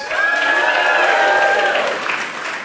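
A comedy club audience claps and cheers loudly for a couple of seconds, with a sustained shout or whoop riding over the applause before it fades slightly.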